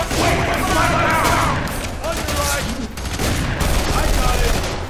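Sustained automatic gunfire from a firefight in the shooter game F.E.A.R. 3, a dense, loud rattle of shots running through the whole stretch with shouted voices and combat noise mixed underneath.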